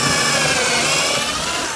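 A pneumatic pocket hole jig drill runs in one loud, steady whir with no pauses, cutting off abruptly at the end, with no talking.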